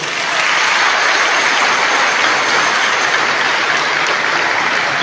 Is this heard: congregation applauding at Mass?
yes